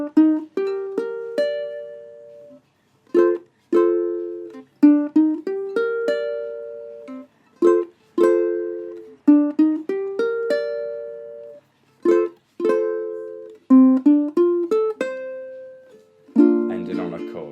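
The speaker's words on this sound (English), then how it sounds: "And it's a riff slash a finger picking pattern, except you're only using your thumb." Ukulele riff picked with the thumb alone, from a song: short plucked phrases in separate bursts, each ringing briefly before a pause, played solo and clearly up close.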